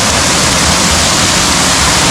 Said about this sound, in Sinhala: මෙන්න පැරඩයිස් ඇල්ල.